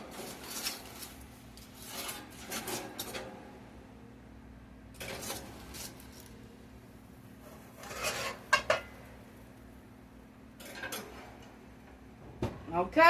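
A dish of enchiladas goes into the oven with intermittent clattering of cookware, scattered clinks and rattles spaced apart over quiet room tone, and a final louder knock and thud at the close.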